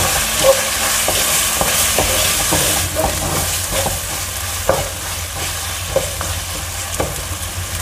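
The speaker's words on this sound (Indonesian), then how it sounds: "Lalu bahan bumbu halusnya ini kita tumis sampai matang dan harum ya" Ground spice paste sautéed in a pan with whole spices until cooked and fragrant, a steady close sizzle with periodic scraping stirs of a utensil against the pan throughout.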